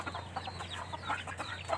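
A rooster clucks in quick, soft, irregular bursts against a steady low hum, faint and somewhat distant.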